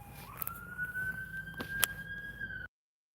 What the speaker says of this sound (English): I can't help the fact that there are sirens.